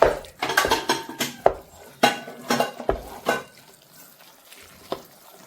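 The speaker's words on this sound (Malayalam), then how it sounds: "ഇനി അങ്ങ് ഇളക്കി കൂട്ടിയേക്കാവേ" Jackfruit varatti being stirred in a pan, with a series of close scraping and clinking strikes of a spoon against metal cookware in an uneven rhythm that thins out toward the end; no voices.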